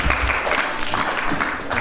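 Children at a kids' retreat clap together in a short burst of applause, close and fairly loud, lasting under two seconds.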